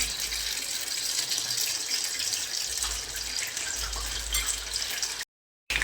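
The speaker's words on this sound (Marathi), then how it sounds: "या पद्धतीने तळून घ्यायचं आपल्याला कमी गॅसवर" Soybean chunks fry in hot oil over a low flame, giving a steady, bright, close sizzle with no talking. The sound cuts out briefly near the end.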